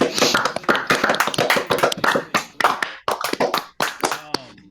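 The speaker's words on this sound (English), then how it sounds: "Can we give a round of applause, please? Can we please clap it up?" A small group claps enthusiastically during a live online members' chat, with loud, close, uneven hand claps that continue in dense bursts and briefly thin out before picking up again.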